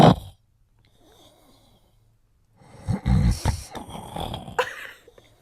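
A monkey snores in two bursts: a brief snort, a quiet pause, then a longer, loud, rasping snore with wheezy breathing, close by.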